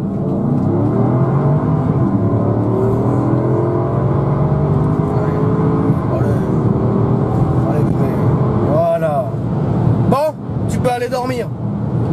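A Porsche Cayenne Turbo pulls away from a green light in city traffic, its engine rising steadily in pitch as it accelerates, close and loud, with people talking over it.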